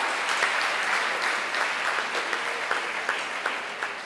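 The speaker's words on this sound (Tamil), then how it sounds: "ஒரு நல்ல கைதட்டல்" A debate-hall audience at a Tamil pattimandram applauds the closing speaker, a steady, dense wash of many hands clapping for several seconds without a break.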